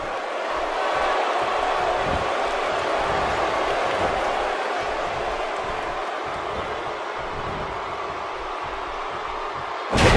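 Video game arena crowd in WWE 2K17 roaring steadily as a broad, continuous wash of cheering, with a louder burst right at the end.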